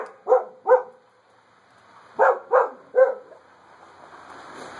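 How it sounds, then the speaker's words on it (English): A dog barks at a car pulling up a driveway, two sharp barks followed after a pause by three more, close and loud, with a low hum underneath. "the dog is barking at my wife who's pulling up the driveway"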